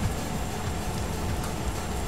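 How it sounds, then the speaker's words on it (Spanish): Rain falls steadily in a truck driving video game on a route from Genova, Italy to Osnabruck, Germany, a constant dense hiss with no breaks and no talk. "Yo voy lloviendo aquí."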